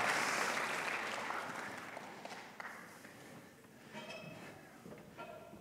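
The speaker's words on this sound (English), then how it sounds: "Give an applause for our volunteer." An audience applauds a volunteer at an oration event in an auditorium; moderately faint, dense clapping that gradually tapers off over several seconds.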